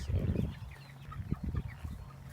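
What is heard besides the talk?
chickens clucking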